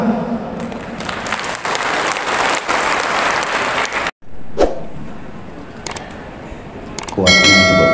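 Loud, dense applause from an audience at a civil servant inauguration ceremony, sustained for about four seconds, then a sudden cut to quieter room noise with scattered claps and a bell-like ring near the end.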